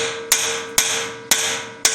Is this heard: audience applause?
no